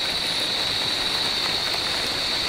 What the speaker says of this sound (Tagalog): Mukhang malakas yung ulan na yan